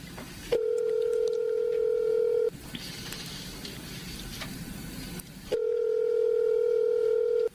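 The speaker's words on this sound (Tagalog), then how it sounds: "Tatawagan ko nga si Boy." Telephone tone heard while placing a call: a steady, loud electronic tone lasts about two seconds, breaks for a stretch of hissy background noise, then sounds again at the same pitch.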